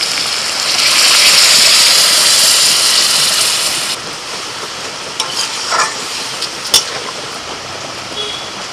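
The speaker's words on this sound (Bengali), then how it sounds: "মশলাটা কষানো হয়ে গেছে পনির ভেজানো জলটা দিয়ে দিচ্ছি" Paneer soaking water is poured into hot fried masala, setting off a loud rushing hiss that lasts a few seconds. It fades to a quieter simmer with a few light clinks.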